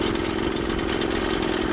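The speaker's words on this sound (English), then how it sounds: "When the engine is running, turn the choke off." The petrol engine of a PC500 paddock cleaner runs close and loud with a steady, even drone and no talking.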